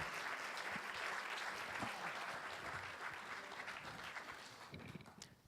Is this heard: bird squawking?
no